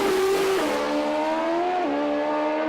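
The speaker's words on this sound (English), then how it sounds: "Bike making a funny couple of noises off the start line, and he rolls off the throttle" A nitrous drag racing motorcycle launches off the start line at a 400 Thunder meet, its engine howling loud and close, pitch stepping up through rapid gear changes before the rider rolls off the throttle.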